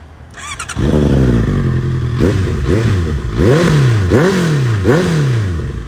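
Big bike motorcycle firing up and revving hard, its loud exhaust roaring and falling back in repeated rising blips, with a brief clatter at the start and no talking.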